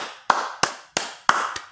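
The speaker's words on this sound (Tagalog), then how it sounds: "Palakpak naman dyan." Four sharp, evenly spaced claps or taps, each ringing briefly, added as an applause effect in Filipino political commentary on House budget deliberations; a single crisp burst at a time rather than a crowd, with no talk over it.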